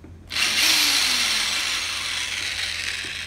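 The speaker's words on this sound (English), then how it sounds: "We gotta drill some holes for some stuff, for some hardware" A power drill bores holes into a homemade swimbait, a sharp whirring burst that starts abruptly and holds steady for about three seconds, close and loud with no talking.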